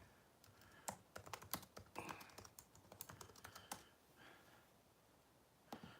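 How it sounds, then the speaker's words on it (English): Keys clatter on a computer keyboard in quick, irregular bursts of clicks, fairly faint and close, then trailing off into a pause before a final couple of taps. "hold on a second, I'm typing something here."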